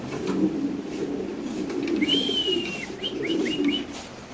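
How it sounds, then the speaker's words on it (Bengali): Lahori pigeons coo softly in a low, murmuring chorus, with a few thin whistling chirps rising over the cooing midway. "খুব সুন্দর কবুতর, এগুলো লারা দিয়ে একসাথে করেন ভাই কবুতরগুলো।"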